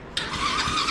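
A quad ATV engine cranks as it tries to start, giving a continuous whirring, squealing starter noise that kicks in abruptly and runs steadily at close range.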